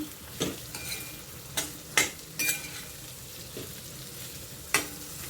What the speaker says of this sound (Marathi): त्याच्यात कोबी टाकूया कोबी टाकून मिक्स करून घेऊया